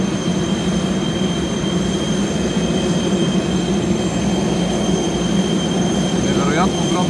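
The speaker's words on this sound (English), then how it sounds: "Това е може би най-големия самолет, който съм виждал на това летище." A Boeing 747-400 airliner at an airport gives a loud, continuous engine roar with a steady high whine, heard close with no break across the whole stretch.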